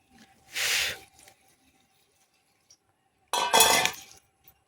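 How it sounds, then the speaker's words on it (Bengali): Water lily stems being rinsed with water in a pot, heard as two short bursts of splashing and clinking about two seconds apart, with near silence between them. "আরেকবার জল দিয়ে ধুয়ে নেব।"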